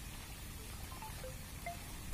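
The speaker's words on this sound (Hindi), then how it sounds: "रास्ते में आते आते पानी लग गया था, बारिश चालू हो गई थी" Rain falling outdoors near a forest, a faint, steady hiss of drops with a few scattered brighter ticks, continuous and without any voices.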